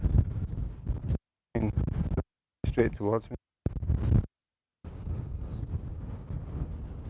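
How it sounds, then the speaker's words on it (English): Strong wind buffets the microphone in loud rumbling gusts on a street in Copenhagen, Denmark, with the sound cutting out briefly several times; a voice speaks under the noise. "I think it's the wind, it's really windy."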